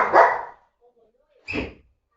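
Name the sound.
dog barking at someone at the door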